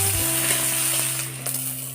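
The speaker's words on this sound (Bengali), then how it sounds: "এরপর ক্যাপসিকাম কুচিটা দিয়ে দেব" Chopped green chilli and capsicum fry in hot oil in a kadai, giving a steady bright sizzle with light stirring throughout, close and fairly loud.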